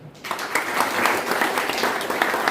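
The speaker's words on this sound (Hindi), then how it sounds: "ताली होना चाहिए" A seminar audience applauds with loud, sustained clapping from many hands in a hall, steady and dense for the whole stretch without voices.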